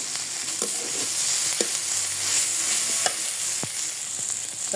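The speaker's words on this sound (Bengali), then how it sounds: "আর গরম মশলার গুঁড়া দিলাম, দিয়ে ভালো মতো এটা একটু কষিয়ে নিব" Garam masala powder sautéing in a pan for a fish chop filling gives a steady close sizzle, with a few light scraping stirs and no talking.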